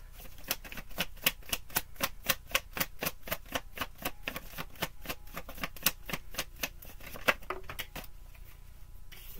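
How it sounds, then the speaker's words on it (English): Tarot deck being riffled and shuffled by hand, a quick even run of sharp card slaps close up, about three per second, then stopping abruptly. "Okay, one more good shuffle."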